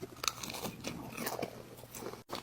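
Crunchy fried fast food is bitten and chewed close to the mic, with a quick sharp crunch followed by several softer chews and crackles, fairly quiet, with no one speaking.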